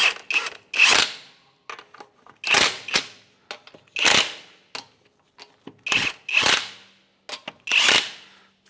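A ratchet with a 22mm socket snugs the lug nuts on a 2007-2013 Acura MDX wheel, heard up close as repeated short bursts of rapid, sharp metallic clicking separated by brief pauses.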